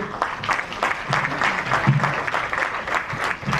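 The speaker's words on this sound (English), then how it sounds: "Let us continue clapping." An audience at an International Youth Day ceremony in Freetown, Sierra Leone, claps steadily and fairly loudly, a dense, continuous patter of many hands with no pauses.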